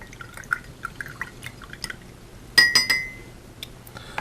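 Water swishes and drips inside a Quaker Sport Classic demonstrator fountain pen being flushed with a syringe, soft close trickles and small glassy clinks, with a brief louder burst of sloshing in the middle.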